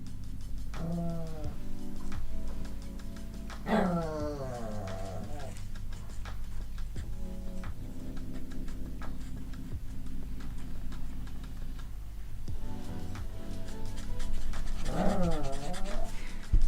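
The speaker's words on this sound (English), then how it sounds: "You're very demanding, puppy." A puppy pants in quick, rhythmic breaths close to the microphone, with a few higher whining or vocal bursts breaking in now and then.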